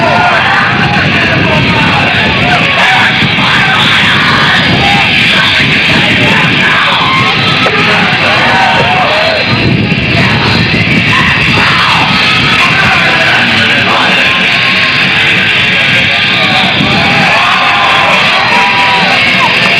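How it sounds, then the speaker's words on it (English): A crowd of spectators yells, whoops and shouts continuously at the Rage in the Badlands skateboarding contest, loud and sustained throughout with no pauses. "here's the crowd over there. The Rangers shouting it out as this guy goes through the air."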